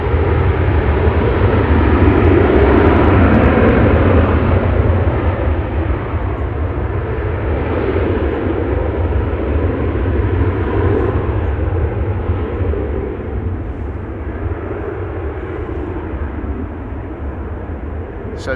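Transavia airliner departing Amsterdam Schiphol Airport, a sustained heavy engine rumble that holds loud then gradually eases, with someone speaking over it at times.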